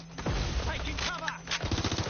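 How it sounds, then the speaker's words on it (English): Rapid gunfire crackles in bursts at the player in the video game Watch Dogs Legion. The shots come in quick, loud volleys, with a voice speaking briefly between them. "I'm getting shot at here!"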